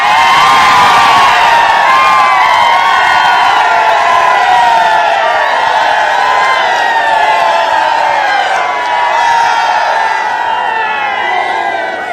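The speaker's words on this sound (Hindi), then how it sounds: "मैं ऐसा करता हूं 10-15 सेकंड आपको दे देता हूं, चीखे मारनी है चीखे मार लो" Large crowd at a political road show in Haryana shouting, whooping and cheering loudly without pause, a dense roar of many voices close by.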